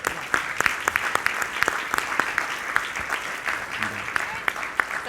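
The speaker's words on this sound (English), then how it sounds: "great round of applause to the Amplify team for a successful second Amplify" An audience at the Amplify 2016 panel discussion applauds the organising team, a steady patter of clapping hands lasting several seconds, moderately close, with some talk mixed in.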